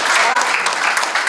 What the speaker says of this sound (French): Mais c'est la partie où vous devez applaudir.